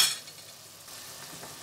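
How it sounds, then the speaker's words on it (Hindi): Mixed vegetables stirred in a pan over low heat, giving a soft continuous sizzle with faint scraping, closing on a brief louder scrape. "अच्छी तरीके से इसको मिक्स कर लें।"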